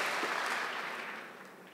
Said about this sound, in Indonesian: Bagi saudara yang merayakan, tepuk tangan.